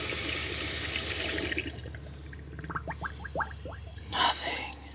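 Water starts running from a tap in a converted school bus after the propane and water pump are switched on, a broad splashing hiss filling the first second and a half before fading, with people talking over it.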